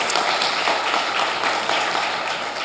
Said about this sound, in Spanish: Alguien dele un aplauso al Señor y exalte su precioso nombre.